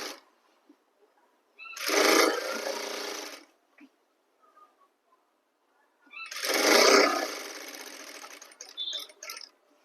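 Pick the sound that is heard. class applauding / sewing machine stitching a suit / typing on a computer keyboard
sewing machine stitching a suit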